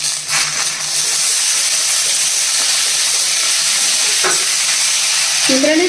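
Tomato pieces fry in a pan of sesame chutney with a loud, dense hiss of sizzling oil that holds steady, with a brief clink near the end.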